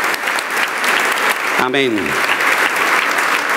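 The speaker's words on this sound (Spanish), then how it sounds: "te damos el mejor aplauso de esta noche" A church congregation claps loudly and continuously through an evening worship service, a dense, close wash of applause with one voice calling out briefly over it midway.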